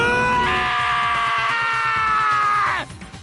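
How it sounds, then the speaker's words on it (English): A loud, sustained scream from a character in the video game Danganronpa Trigger Happy Havoc, one long rising cry lasting close to three seconds before it cuts off abruptly, with game music underneath. "Hey, I heard screaming."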